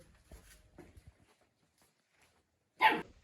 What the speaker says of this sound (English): The puppies are running amok, just like Tesla when she was a baby.